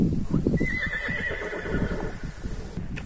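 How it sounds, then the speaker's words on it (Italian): Horses on a mountain hiking trail near Fonte della Moscosa in Italy neigh in a clear whinny while hooves clip-clop in a quick, uneven patter close by. "Guardate che belli i cavalli."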